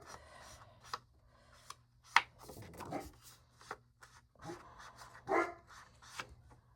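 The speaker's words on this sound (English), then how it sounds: "Sorry, the dog is barking." A Great Pyrenees dog gives a couple of short barks at a distance, heard amid quiet rubbing and scraping handling noises close by.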